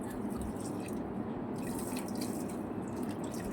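Water poured onto potted plants, including a tulsi pot, on a hot day, heard as a steady, continuous splashing and trickle throughout with no talking.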